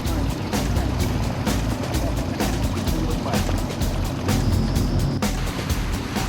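Steady engine roar of fast BRP Sea-Doo motorboats and jet skis running on the open Dnieper River, loud and continuous, with splashing and bumps throughout.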